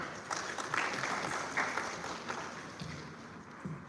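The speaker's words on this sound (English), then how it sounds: "Let's give a warm round of applause." An audience applauding at a medical education event, a faint, dense patter of clapping lasting a few seconds without fading out.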